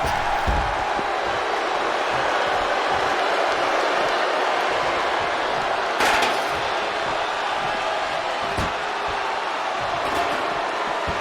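A power bomb slam in WWE 2K20 lands among a constant roar of arena crowd noise, with a heavy thud midway and fainter impacts after it.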